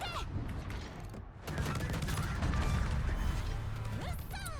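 Naval gunfire booms and crashes in World of Warships, with rapid repeated blasts and impacts over a dense, steady battle din, moderately loud.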